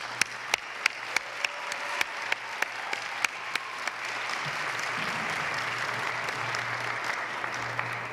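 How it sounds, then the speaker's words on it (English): A round of applause at an allied health pinning ceremony, with a few distinct claps at first quickly swelling into sustained clapping from a crowd that continues steadily to the end, fairly quiet and distant. "a round of applause"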